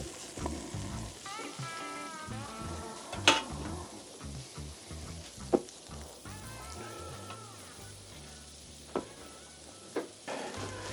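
Butter sizzles softly on a hot griddle with a quiet, steady crackle, broken by a few sharp clicks and scrapes of utensils.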